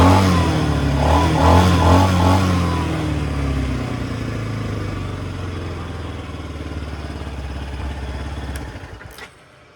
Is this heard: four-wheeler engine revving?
yes